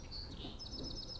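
A finch chirps in short, bright bursts, repeating high tweets over a low, steady background rumble.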